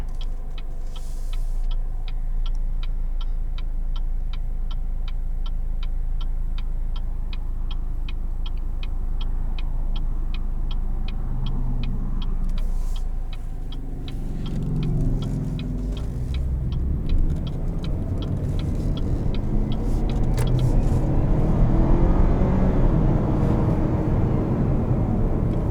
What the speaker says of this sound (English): This turbo 4-cylinder packs quite a punch